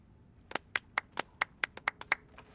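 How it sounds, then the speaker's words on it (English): A sparse round of individual claps in Genshin Impact, about ten sharp hand slaps spaced unevenly over two seconds, fairly close and without any crowd noise. "A round of applause, please."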